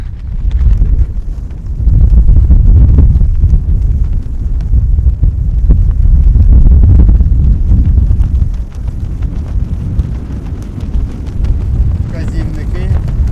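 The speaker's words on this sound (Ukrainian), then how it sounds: "Тут дуже вітряно" Strong wind buffets the microphone on a mountain top in the Ukrainian Carpathians, loud gusting roar that swells and eases in waves, with a voice speaking underneath.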